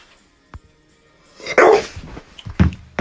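A dog barks in reaction after its owner barks at it: a small click, then a loud close bark burst, followed by another sharp bark and a short yip near the end.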